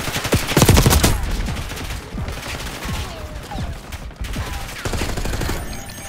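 Dense gunfire in Call of Duty: Black Ops 6 gameplay, rapid automatic bursts and sharp single shots overlapping in a loud, chaotic firefight, a heavy burst near the start, then ongoing shooting with a few louder close reports.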